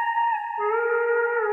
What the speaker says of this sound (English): It's a vocal chop that sounds something like this.